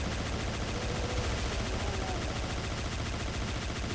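Rapid weapon fire from the Doom mod Back to Saturn X, a continuous dense barrage of loud shots blending into a steady roar throughout.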